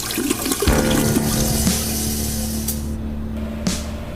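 A toilet flushes loudly and nearby, with a rushing gush of water that settles into a hissing refill and trails off with a gurgle.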